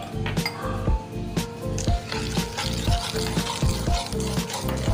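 Marble cake batter with vanilla essence is stirred in a bowl, giving a rhythmic series of wet squishes and light clinks of the utensil against the bowl, close and steady.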